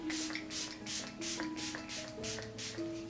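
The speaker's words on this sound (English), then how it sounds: "Now I'm just going to spray the Juvia's Place one on top." Juvia's Place setting spray misted onto a face, a quick series of about six soft, breathy spritzes in a regular rhythm, close and fairly quiet.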